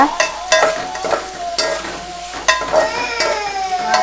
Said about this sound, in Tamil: வெங்காயம் நல்லா வதங்கட்டும் இந்த கொஞ்சமாக உப்பு ஆட் பண்ணிக்கோங்க